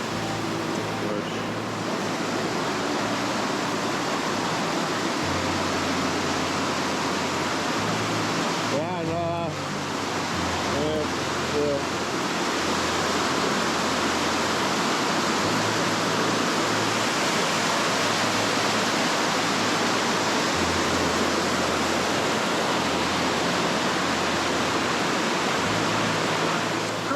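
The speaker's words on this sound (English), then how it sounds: "creek, it's ripping a little too much" Water rushes fast and loud through a mountain creek in North Cascades National Park, a steady, broad roar that runs without break for the whole stretch, close by.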